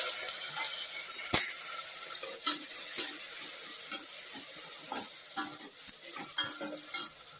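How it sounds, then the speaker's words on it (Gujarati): Green chilli, garlic and capsicum sizzle softly in a pan, a steady quiet hiss broken by scattered clinks and scrapes of stirring. "અને આ જે બધું લીલું મરચું, લસણ ને કેપ્સિકમ મરચું નાખી દઈશું અંદર."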